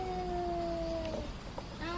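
Pet cats indoors give a drawn-out meowing wail, a long tonal cry that slides slightly downward and then rises again near the end, steady against a quiet room.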